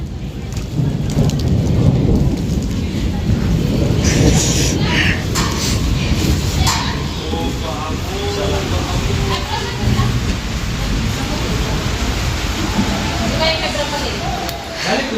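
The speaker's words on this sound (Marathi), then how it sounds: "चला पटपट पाऊस आलाय" Heavy rain pours steadily, with thunder rumbling through it and voices talking over the downpour throughout.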